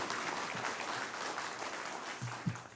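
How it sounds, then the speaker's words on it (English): Scattered applause at a community services district board meeting, a faint steady patter of clapping from a small audience lasting about three seconds. "I hope the applause doesn't count on my time."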